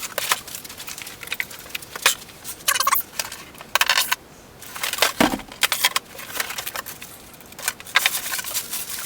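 Scissors snip through plastic packaging and ties to free a Party City Dobby figure from its box, giving irregular crinkling, crackling and cutting noises in close, uneven bursts.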